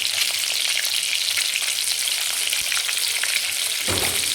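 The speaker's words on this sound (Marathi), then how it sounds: "आपल्याला हे छान फ्राय करून घ्यायचं" Eggs frying in an iron kadhai with Kashmiri red chilli powder and turmeric, a steady loud sizzle with crackling spatters and occasional stirring scrapes, close up with no talk.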